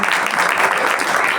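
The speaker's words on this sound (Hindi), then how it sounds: "ताली बजा दीजिए जोर से।" Audience at an Arya Samaj religious discourse in Noida applauding, a dense, steady wash of many hands clapping loudly throughout with no gaps.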